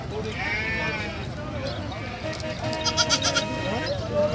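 Desi goats at Shahpur Kanjra livestock market in Lahore bleat several times in wavering calls over a busy crowd murmur, while someone talks nearby.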